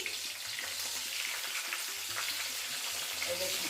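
Stuffed ash gourd pieces fry in hot oil in a wok, a steady dense sizzle and crackle running throughout at close range, with occasional soft stirring or turning knocks and no voices.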